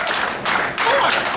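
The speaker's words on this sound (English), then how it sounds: "A round of applause" A comedy club crowd applauds a stand-up comedian, a brief burst of loud, dense clapping that dips and surges, with a voice faintly mixed in.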